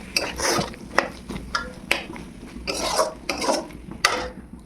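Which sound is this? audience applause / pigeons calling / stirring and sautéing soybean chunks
stirring and sautéing soybean chunks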